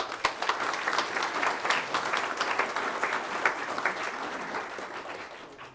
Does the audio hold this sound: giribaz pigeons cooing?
no